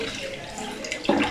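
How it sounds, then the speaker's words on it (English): Milk pours into a big pot at home with a steady liquid splash that swells louder near the end, close by and with no talking. "So all the milk goes into this big pot."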